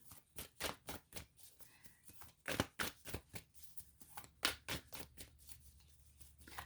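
Tarot cards are shuffled by hand close up in a quiet room, giving a series of soft, quick riffling and slapping bursts at an uneven rhythm, with no talking.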